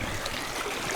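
A river flows steadily through a dim forest in low evening light, its continuous broadband rush close and even with no voices over it.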